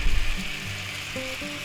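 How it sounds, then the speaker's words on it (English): Pats of butter melting and bubbling in a pan, a steady soft sizzle heard close, with a brief clatter at the start. "it's starting to bubble there a little bit, our butter, and melt it pretty good"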